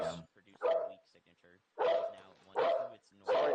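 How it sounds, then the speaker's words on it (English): Several sharp dog barks come in bursts between stretches of someone talking, fairly close and loud, with the speech and barking alternating over a few seconds during live storm coverage. "Sorry about the dogs on me."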